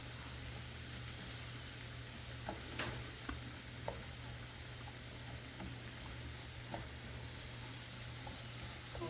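Mushrooms fry in a pan for an omelet, giving a soft continuous sizzle with occasional light ticks and taps from a utensil against the pan.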